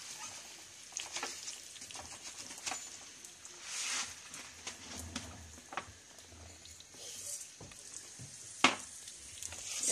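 Rice sautéing in a pan for asparagus risotto gives off a soft, uneven sizzle, with light scrapes and taps of stirring near at hand.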